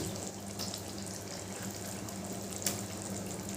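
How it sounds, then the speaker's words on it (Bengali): Hot water poured into simmering soybean kofta gravy in a pan, a steady continuous splashing pour with a faint bubbling wash underneath, close and moderately loud, with no talking. "আর একটু সামান্য জল দিয়ে দিলাম তবে এই জলটা কিন্তু গরম জল দিলাম"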